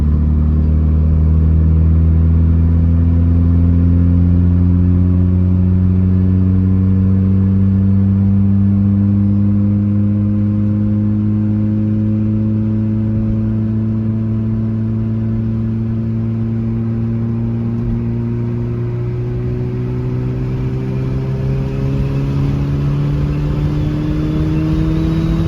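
A car's engine, driven on the road, pulls up steadily through its rev range, the loud mid-pitched drone climbing gradually over about twenty-five seconds with no breaks or voices.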